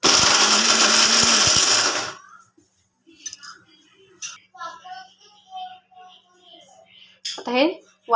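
A kitchen mixer grinder roars loudly for about two seconds while coarsely grinding dry fruits, then cuts off abruptly; someone talks afterwards in a quiet room.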